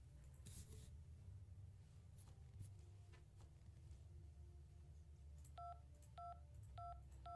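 A phone number is dialed in the video game Syberia 2: a quick string of about five short, clear touch-tone beeps near the end, preceded by faint handset clicks over a low, quiet background hum.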